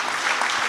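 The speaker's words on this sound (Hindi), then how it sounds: "एक बार जोरदार तालियां बजाइए इनके लिए, जबरदस्त तालियां बजाइए।" An audience applauding at a Bhaktamar healing spiritual gathering, a brief burst of dense, even clapping.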